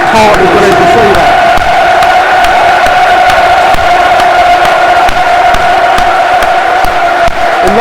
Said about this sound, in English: There's a great round of applause all around the stage.